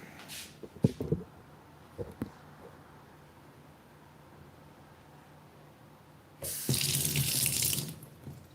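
A kitchen or bathroom tap runs into a sink for washing. Short splashes and handling noises come first, then after a quiet stretch the faucet gushes with a loud, steady hiss for about two seconds.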